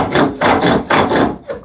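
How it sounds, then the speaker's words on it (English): A rasp shapes wood on a spring pole lathe in about four rough, scraping strokes. Each stroke is a short, loud burst followed by a brief pause, in a steady back-and-forth rhythm. "that rasp works, boy, incredibly well"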